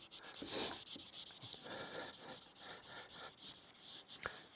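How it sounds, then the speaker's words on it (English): Soft scratchy rubbing strokes of a hand-held sanding stick, faint and close, repeating irregularly. "I really like this edge on the sanding stick"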